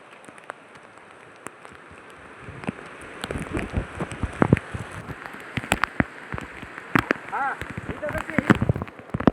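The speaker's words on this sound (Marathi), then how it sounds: "हे बघा एकदम जोरात पाऊस आलाय." Heavy rain patters and splashes on surfaces nearby, growing louder and denser partway through, with people talking under it.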